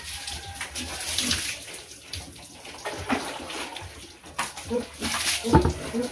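Water splashes and pours steadily from a bucket while bathing a pet pig, with sloshing bursts and voices talking faintly in the background.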